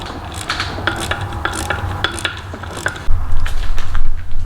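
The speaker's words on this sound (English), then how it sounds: "Last, we just got to get this mounting bolt in here." Close, crisp ratchet clicks in quick repeated bursts as a mounting bolt is tightened during a Mountune intake install on a Ford Focus ST, followed by a louder low rumble toward the end.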